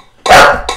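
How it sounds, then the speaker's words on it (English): A dog gives one loud, close single bark, followed by a short fainter yip right after. "how did you do with the dog barking in the background?"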